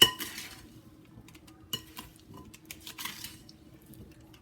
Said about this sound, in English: all we do is just stir all these together until it's well incorporated